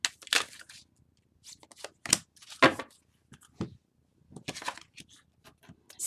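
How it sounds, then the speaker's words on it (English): Tarot cards being side shuffled by hand in quiet bursts of crisp, papery riffling and soft slaps, close and fairly quiet, separated by brief silent pauses, with no talking. "let's start shuffling. Side shuffle"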